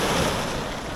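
Sea waves wash onto a Jamaican beach in a brief, loud, steady roar of surf mixed with wind buffeting the microphone, with no voices.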